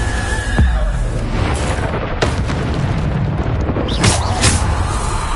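Repeated booming blasts of the Bombarda explosion spell in Hogwarts Legacy, loud and close, mixed with other game effects and bursts of spell sounds.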